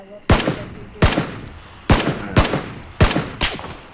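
Sniper rifle shots ring out in PUBG: Battlegrounds, six sharp, loud cracks in quick succession, each trailing off in a brief echoing tail.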